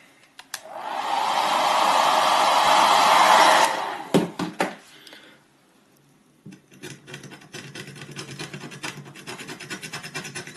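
A heat gun blows hot air onto the varnish of a fishing rod being taken apart: a steady, loud rushing roar for about three seconds, then scraping and rubbing sounds as it cuts off.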